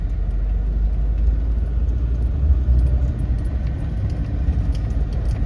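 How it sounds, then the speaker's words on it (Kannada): A 2003 Maruti Zen car drives along with a steady low rumble of engine and road noise heard from inside the cabin, carrying a faint rattle and no talk. "ಫುಲ್ ಸ್ಮೂತಾಗಿ ಗಾಡಿ ಹೋಗುತ್ತೆ, ಕಂಟ್ರೋಲು ಸ್ಟೇಬಲ್"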